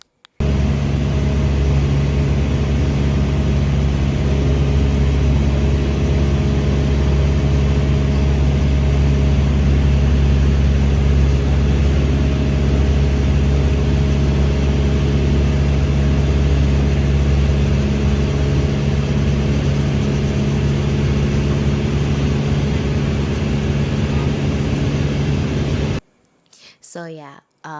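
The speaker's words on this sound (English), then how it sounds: "I'm gonna let you guys hear more of the plane going" A steady, loud small-plane engine drone in flight with constant low hum and tonal whine, continuing unbroken for nearly half a minute before cutting off abruptly near the end.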